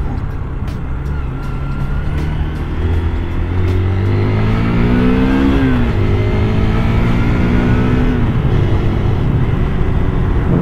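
A Hero Hunk 160R 4V motorcycle engine pulls smoothly through rising revs, with a loud, continuous drone whose pitch climbs, dips briefly at a shift, and climbs again.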